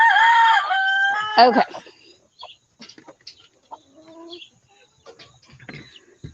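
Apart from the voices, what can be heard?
chickens clucking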